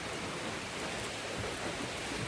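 Steady rain falls on a Vermont stretch of the Appalachian Trail, a dense, even hiss filling the whole stretch with no voices.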